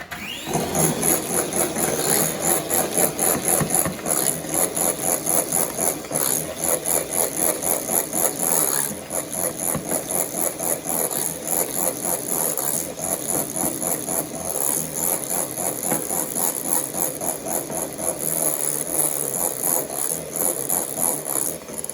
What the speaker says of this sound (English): So I'm going to whisk it, be noisy, I won't talk.